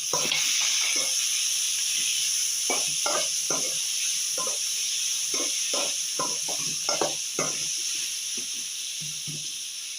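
Ivy gourds frying in a pan give a steady, bright sizzle with scattered low knocks and scrapes of stirring, close and continuous, with no talk.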